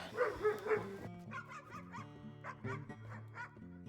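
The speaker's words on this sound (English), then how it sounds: "I'm sorry for the dog barking in the background" A dog barks and yips in the background, several sharp bursts in the first second followed by softer repeated yelps over a steady low hum, with no talking.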